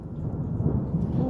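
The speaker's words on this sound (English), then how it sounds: "That's not good thunder." Thunder rumbles low and steady through a short stretch during a London stormy day, a dull continuous roll without talk.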